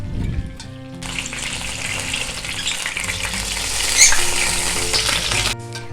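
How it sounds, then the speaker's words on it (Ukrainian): Chicken pieces sizzle and crackle loudly in a hot pan, a dense hiss that starts abruptly and continues steadily, swelling briefly midway. "Поки смажаться дві інші частинки курочки"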